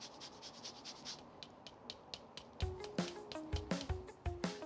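Lemon being grated for zest into a Greek dish, a series of soft, close rasping strokes in a steady rhythm, quiet at first and then firmer and more distinct, with no talking.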